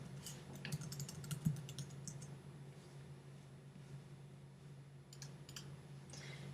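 Quick bursts of light clicking keystrokes on a computer keyboard while entering login details, heard in short clusters over a steady low hum, moderately faint.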